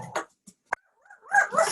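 A dog gives a couple of short yips and whimpers, sparse and brief at first, then a louder run of excited barking at the end, fairly close.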